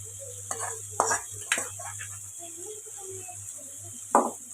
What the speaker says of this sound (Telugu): ఇది కూడా ఈ మసాలా కొద్దిగా పట్టేలాగా ఫ్రై చేసుకున్నాం